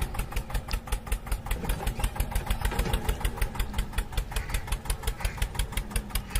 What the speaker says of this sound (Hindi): आ गया ट्रैक्टर, घूम के आ गया।